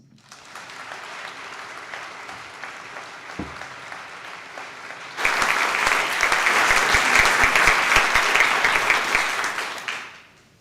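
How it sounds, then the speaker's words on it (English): A theater audience at a program premiere first murmurs quietly, then breaks into sustained, full applause that swells loud and steady for several seconds before tapering off. "let's begin the program with a round of applause"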